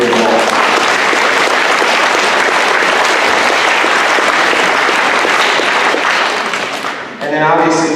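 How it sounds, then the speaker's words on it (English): A crowd at a high school homecoming coronation in Wall applauds steadily and loudly for the community, a dense, sustained wash of clapping that fades briefly near the end before a voice begins talking. "clap it up for this Wall community"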